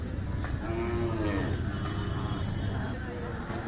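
Dairy cow among livestock at the Kartiki yatra cattle fair in Pandharpur, heard as low lowing moos amid a busy, noisy crowd with people talking nearby.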